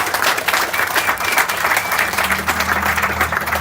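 An audience applauds steadily and loudly at an outdoor groundbreaking ceremony for a West Broadway gateway, dense clapping filling the short stretch without pause.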